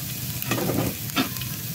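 Garlic sautéing in a hot pan gives a soft continuous sizzle, with two brief louder bursts of stirring scrapes close by and no voices.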